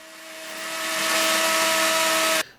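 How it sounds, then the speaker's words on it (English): A router fitted with a flush trim bit cleaning out a slot in wood, a loud, steady high-pitched whine with cutting noise that builds over the first second, holds, then cuts off abruptly. "taking a flush trim bit and riding the bearing against the edge of the initial slot and cleaned everything out that way"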